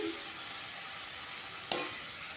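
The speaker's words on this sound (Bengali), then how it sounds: "এদিকে দেখুন টমেটোগুলো নরম হয়ে গেছে আবারও আমি খুব ভালো করে মিশিয়ে দিচ্ছি" Softened tomatoes are stirred in a frying pan over the heat for a simple home-style vegetarian bean dish, a soft continuous sizzle with one sharp utensil knock near the end.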